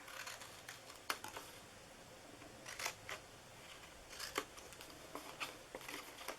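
Scissors cutting paper for a small treat box, a scattering of faint, crisp snips spread irregularly across a quiet room with no talking.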